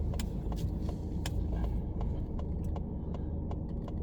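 Car pulling away from a stop on a driving test route in Saint-Brice-sous-Forêt: steady low engine and road rumble under a series of sharp ticking clicks, close and continuous, with no talking.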